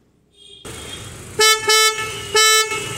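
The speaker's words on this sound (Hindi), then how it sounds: "और अब हॉर्न का रिस्पॉन्स।" Three loud, low-toned car horn blasts from a Hyundai i10 Grand Sportz fitted with twin low-tone horns sound in quick succession over a steady idling hum, the first two close together, the third after a short pause.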